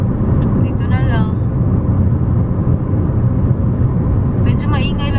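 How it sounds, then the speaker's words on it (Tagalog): Steady, loud broadband road and engine rumble inside a car travelling at 110 km/h, continuous throughout, with someone talking over it. "Medyo maingay lang talaga yung sasakyan. Kasi we are 110 kilometers per hour tayo ngayon."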